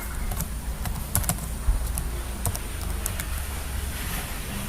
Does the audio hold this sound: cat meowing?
no